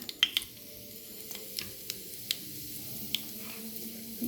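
Mustard seeds and cumin crackle in hot tempering oil, a quiet steady sizzle broken by a few sharp pops and light ticks over about four seconds.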